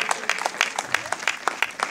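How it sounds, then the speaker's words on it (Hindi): A sparse, thin smattering of applause from a Republic Day audience at an Indian stage event, with individual claps standing out in an uneven rhythm. "इतनी तालियों से मेरा काम नहीं होने वाला है"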